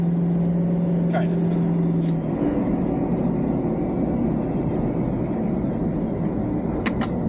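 A new Chevy pickup truck towing a loaded trailer accelerates hard uphill from a stop, its engine a loud, steady droning roar heard from inside the cab, with a brief tonal whine early on.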